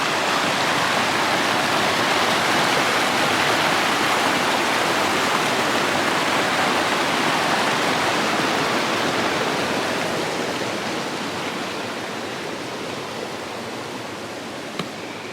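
Peru Creek rushes steadily along a dirt road in a mountain valley on the Continental Divide Trail, a loud, dense, unbroken wash of flowing water that fades slightly toward the end, with no voices.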